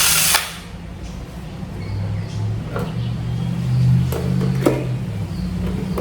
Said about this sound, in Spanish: se monta en el taladro